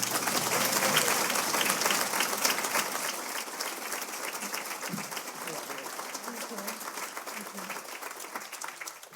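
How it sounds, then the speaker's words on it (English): Sustained audience applause and cheering at a keynote event, a dense steady wash of many hands clapping throughout, loud and close, with a few voices calling out within the crowd. "please give her a round of applause"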